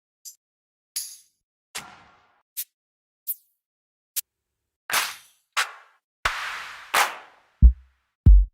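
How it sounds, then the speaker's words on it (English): A series of separate drum hits, sharp ticks and snappy snares, then two deep booming kicks near the end, each sounding alone with short gaps between. "It's got some pretty high quality drum sounds in there."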